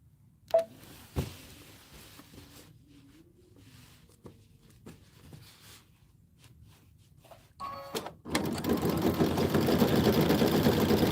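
Quiet clicks and faint handling give way to a sewing machine starting up and stitching fast in a loud, continuous whirring run near the end, the run that comes unthreaded.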